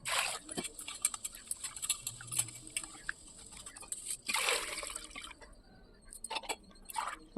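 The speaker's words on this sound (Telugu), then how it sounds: "ఒక గ్లాస్ పట్టు పెసరబ్యాళ్ళు వేసుకొని నీళ్ళు పోసి రెండుసార్లు శుభ్రంగా కడుక్కోవాలి" Rice and moong dal are rinsed with water in a bowl, producing faint swishing, dripping and light splashes in uneven bursts, quiet and close.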